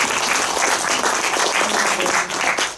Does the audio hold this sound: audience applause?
yes